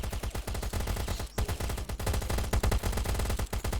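Rapid automatic gunfire from the survival shooter Last Island of Survival, loud continuous bursts with a brief pause midway, no talking.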